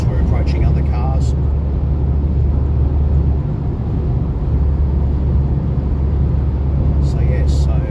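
A car cruising on the A24 Autobahn bound for Berlin, heard from inside as a steady, loud low rumble of road and wind noise that holds constant throughout with no breaks.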